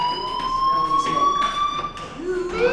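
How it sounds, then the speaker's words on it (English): A fire alarm in the video game Life Is Strange rings continuously with a steady high electronic tone, loud and unbroken, as a person talks over it. "do you hear that fire alarm?"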